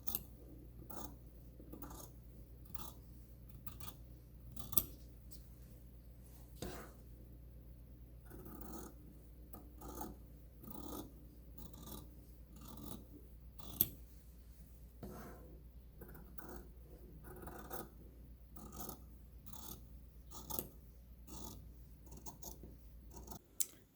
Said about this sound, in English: I will cut along the cut line of the mask fabric.